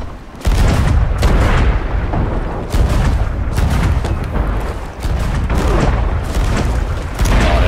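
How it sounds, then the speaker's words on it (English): Repeated heavy booming blasts of cannon fire from the game Sea of Thieves during a ship raid, arriving in loud bursts every second or two with a continuous rumbling background. "just try to get back with some cannons"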